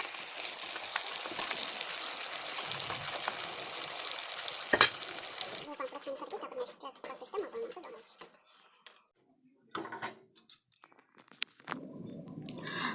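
Spices tempering in hot oil for chaat, a bright crackling sizzle close by that runs steadily for about five seconds and then breaks into scattered pops and clatter, with someone talking through it.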